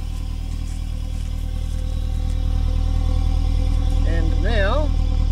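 Car engine idling with the exhaust running after about four minutes, a steady close mechanical drone with a regular low pulse, while a voice talks over it near the end.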